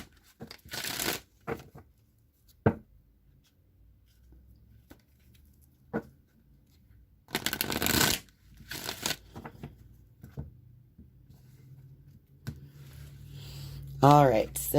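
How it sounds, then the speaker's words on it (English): Oracle card deck from the Queen of the Moon set shuffled in a few short, crisp riffling bursts, close by with quiet gaps between, during a tarot-style card reading. "I'm going to give this deck 3 shuffles, and then I'll cut the deck and draw 3 cards"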